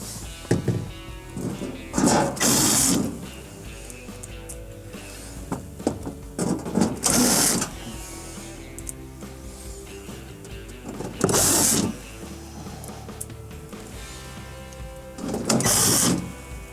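Screws going back into the rear cover of a Whirlpool refrigerator during an evaporator repair, with four short whirring bursts of a power driver spaced a few seconds apart over a quiet background.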